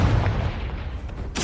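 A Confringo blasting spell goes off in Hogwarts Legacy, a heavy low boom at the start that rumbles and fades, with a sharp bright burst of debris near the end.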